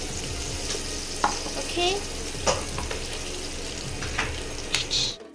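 Onions frying in a pan on an induction cooker for a prawn curry, a steady close sizzle broken by several sharp stirring scrapes and clinks, with a brief spoken word.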